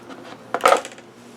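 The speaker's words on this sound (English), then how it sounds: "I've got a pair of bolt cutters that I use, and that cuts it just like butter to wherever I want to cut" Bolt cutters snap through a small stainless steel pick guard part, giving one short, bright metallic clack with a quick ringing tail, close and isolated against a quiet room.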